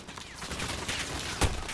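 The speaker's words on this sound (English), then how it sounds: "Who is shooting me from behind?" Gunfire in the video game Call of Duty: Modern Warfare, a dense rattle of shots under battlefield noise with one louder, sharper burst standing out near the end.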